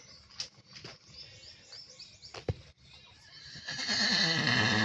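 Horses at a stable, with a loud nearby neigh partway through, some thumps and shuffling, and a rising whinnying, bird-like chatter toward the end.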